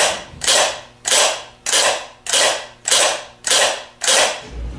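Delco 42MT starter Bendix drive kicking in and out on a bench, eight sharp mechanical clacks at an even rhythm about every 0.6 seconds, each with a brief rattling tail, loud and close.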